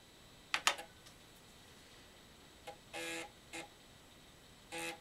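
A few short bursts of typing on an Acorn BBC Master computer keyboard, crisp clicks in small clusters separated by quiet pauses, close and fairly faint.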